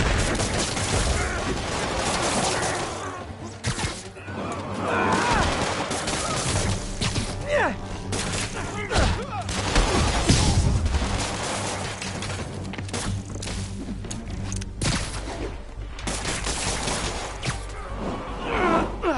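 Enemy gunfire in a Spider-Man video game, a dense, continuous fusillade of shots and impacts mixed with crashes and combat noise, loud and busy throughout.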